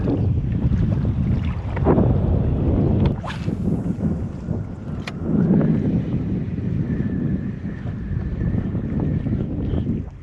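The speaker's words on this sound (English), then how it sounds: "the wind is windy" Strong wind buffets the microphone on the Florida fishing flats in a continuous roar, with gusts swelling and easing over the whole stretch; no one speaks.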